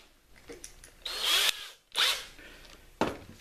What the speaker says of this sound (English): the easiest way to drill is step drilling